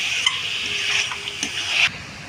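A small splash of water poured into a pan of egg curry with fried eggs, a short soft watery hiss over a steady cooking sizzle, close and fairly clear.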